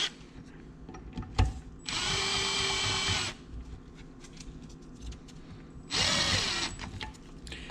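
Power drill driving long and short bolts into a Kawasaki KFX 450R quad, two bursts of steady whirring, the first about 1.5 seconds and a second shorter one, with quiet shop clatter between.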